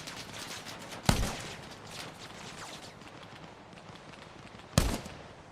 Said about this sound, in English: Dude, who keeps shooting?